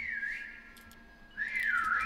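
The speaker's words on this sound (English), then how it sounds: "I think the key is once you whistle" A player character whistles in the online multiplayer game Prop Hunt, two sustained wavering whistled tones separated by a brief pause, fairly loud and with no talking.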